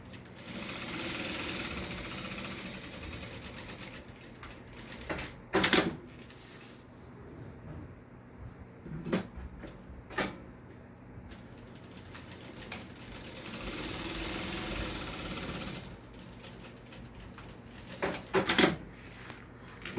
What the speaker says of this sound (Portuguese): e vou fazer uma costurinha